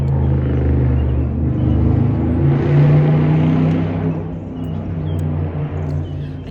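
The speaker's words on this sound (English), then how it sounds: "Some of these cars take off the mufflers" Loud, deep engine rumble of a car without a muffler passing by a park, swelling to a peak mid-pass then easing off, with a steady low drone throughout and no talk over it.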